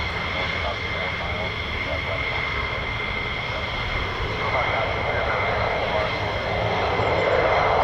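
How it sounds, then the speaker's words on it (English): A military fighter jet, an F-15 or F-35, taxiing to the end of the runway at RAF Lakenheath: a steady, loud engine roar and whine holding throughout, close by, with faint talk in the background. "Just taxiing to the north EOR, end of runway."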